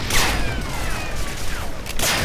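Gunfire from the Medal of Honor Breakthrough World War II shooter: a rapid volley of shots with bright crack-like bursts near the start and end and ricocheting whines in between, loud and close throughout.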